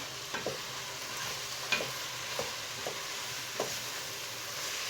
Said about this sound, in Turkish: Evet salçam da güzel kavruldu.